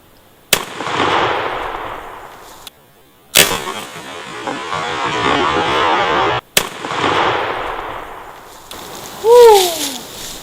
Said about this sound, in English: first shot, 20 yards, Remington 1187 Remington Magnum turkey load